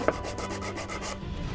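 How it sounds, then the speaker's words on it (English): Steady back-and-forth sanding strokes rub along a cosplay grappling hook prop, close and rhythmic, with no voices. "I would keep sanding and keep sanding"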